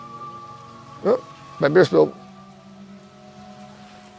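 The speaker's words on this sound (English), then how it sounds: "Stay tuned with the pouring rain." Pouring rain at a Halloween campground evening, a steady broadband hiss throughout with a person talking briefly over it and faint background tones.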